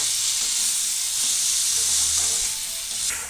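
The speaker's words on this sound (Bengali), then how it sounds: "এবার আমি চিংড়ি আলু ভেজে রেখেছিলাম ওটাকে দিয়ে দেব, দিয়ে দিয়ে এটাকে আমি এক মিনিট কষাবো" Prawns and potatoes frying in spice paste in a pan, a loud steady hissing sizzle close up with faint stirring, and no talk.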